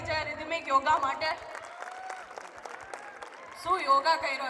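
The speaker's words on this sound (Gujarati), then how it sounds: "એકવાર ફરીથી તાળીઓ થઈ જાય રિધમિક યોગા માટે." An audience claps for a rhythmic yoga performance at a school's annual function, a scattered round of applause in the middle that is framed by amplified voices before and after.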